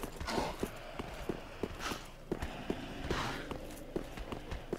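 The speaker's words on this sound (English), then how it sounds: "I can hear their stupid little footsteps." Enemy footsteps in Dark Souls III, a steady run of sharp, evenly spaced thuds close by, some two per second, over a busy game soundscape with no talk.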